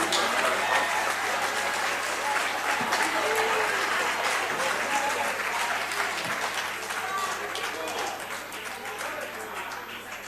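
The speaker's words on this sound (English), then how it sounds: "It is so discouraging to see old people clapping hands" Sustained applause from a parliamentary chamber audience, many people clapping hands steadily for about ten seconds, dense and fairly loud, slowly tapering toward the end.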